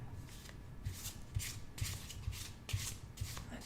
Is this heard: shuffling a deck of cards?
yes